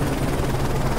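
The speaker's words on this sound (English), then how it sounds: "Enemy chopper closing on your position." An enemy helicopter closes in during a Call of Duty: Modern Warfare 3 battle, a loud, dense rotor roar and engine rumble filling the moment with no pauses or voices.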